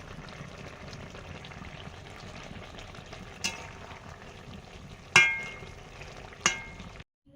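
Hilsa fish pieces frying in a pan for a spicy curry, giving a steady, even sizzle with a few sharp utensil knocks near the end and no talking.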